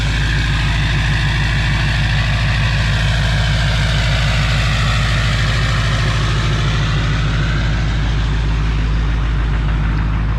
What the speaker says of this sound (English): I forgot she's gonna kick into high idle right here